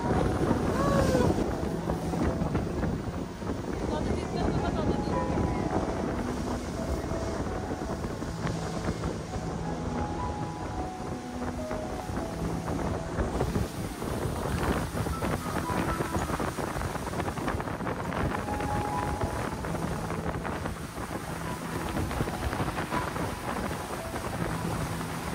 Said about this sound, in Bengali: একে বেঁকে হেলে দুলে চলছিল স্পিডবোট,